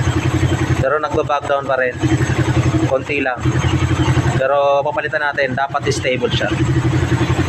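A motorcycle engine with a 30mm tuning setup idles with a steady low exhaust rumble and brief dips, under someone talking throughout.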